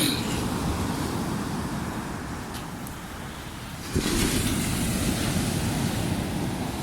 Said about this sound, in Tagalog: ang lakas ng alon mataas ang alon umaabot sa 2 meters ang alon